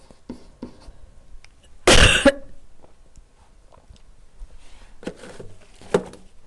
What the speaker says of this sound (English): whenever I talk a lot, I cough a lot